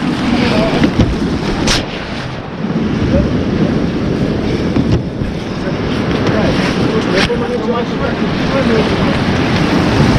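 Loud, continuous surf roars close by, heavy wind buffeting the microphone over the crashing waves.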